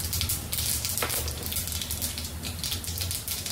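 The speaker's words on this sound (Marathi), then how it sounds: "राई जिरे तडतडली" Mustard seeds and cumin crackle in hot oil in a kadai on a gas stove: a dense, steady stream of sharp little pops over a bright hiss, close and continuous, with no talking.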